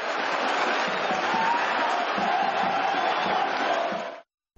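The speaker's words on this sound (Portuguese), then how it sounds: "a torcida do Verdão, mesmo com a eliminação, aplaude os jogadores do seu time" Palmeiras fans in a stadium crowd at a Copa São Paulo match applauding their team's players after elimination, a loud, continuous roar of clapping and cheering that cuts off abruptly near the end.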